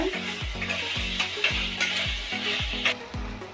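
Ivy gourd curry sizzling in a pan while being stirred, a close hissing fry overlaid with repeated scraping strokes of the spoon in a steady rhythm, with no one speaking.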